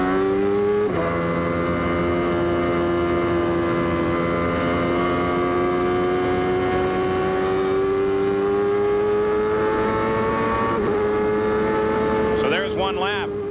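A 1995 IndyCar race car screams down a straightaway at Road America, Elkhart Lake, its engine note rising steadily as it accelerates, loud and close, with other cars audible near the end.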